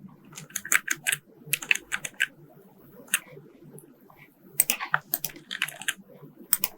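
Computer keyboard keys clatter in quick bursts of typing separated by short pauses, close and fairly quiet, with no talking.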